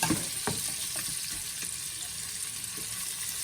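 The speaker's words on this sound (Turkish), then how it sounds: "iyice yağları çıkıncaya kadar kavuruyorum" Chunks of meat frying in their own rendered fat for Gaziantep şiveydiz, a steady close sizzle with soft stirring scrapes and a few light clicks throughout.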